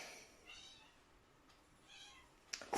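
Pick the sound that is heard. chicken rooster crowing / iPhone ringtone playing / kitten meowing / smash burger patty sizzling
kitten meowing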